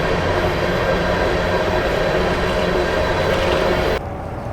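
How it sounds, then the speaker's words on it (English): A train on a main rail line passes near an outdoor campsite with a loud, steady roar of rolling cars, then the noise drops away sharply near the end. "that's train number 3. They're all like 5 minutes apart."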